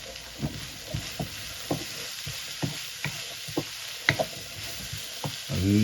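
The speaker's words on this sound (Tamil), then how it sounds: "நல்லா தாளிக்கணும்" Curry leaves and onions tempering in hot oil in a South Indian kitchen, a steady close sizzle with regular stirring scrapes and taps, and no voice.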